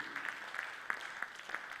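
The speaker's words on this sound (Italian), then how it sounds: "fategli un applauso anche a lui" Scattered audience applause for Antonio at a Sardinian concert, faint and distant, with a few sharper claps standing out from a steady patter over the short stretch.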